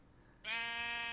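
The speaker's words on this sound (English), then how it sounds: "A little higher pitched bleat." Baby sheep, a lamb in Minecraft, gives a single short, high-pitched bleat that starts abruptly and holds steady to the end, alone and fairly faint.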